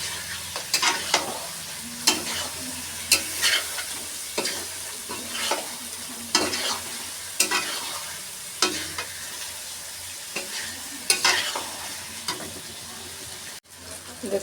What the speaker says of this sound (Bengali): এইভাবে কষাতে থাকবে।